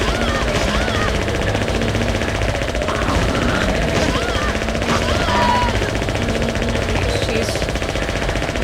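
Rapid gunfire from a gun in Silent Hill 3, a dense continuous rattle of shots that stays loud throughout, with voices heard faintly beneath.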